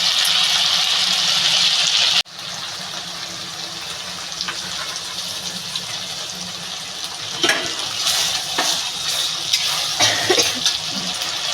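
Masala eggplant frying in oil in a pan, a steady broadband sizzle that cuts out briefly near the start, then returns with scattered louder crackles and pops.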